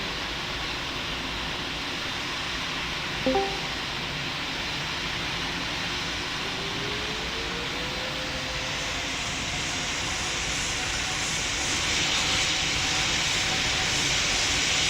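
An Emirates airliner in the Roblox Pilot Training Flight Simulator game rolls for takeoff, its jet engines a steady broad roar with a faint rising whine, growing slightly louder toward the end.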